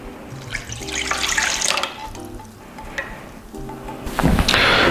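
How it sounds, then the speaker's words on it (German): Tap water runs into a mixing bowl for bagel dough that already holds yeast, a steady splashing pour with brief pauses that grows louder and fuller toward the end. "Dann kommt das Wasser hinein."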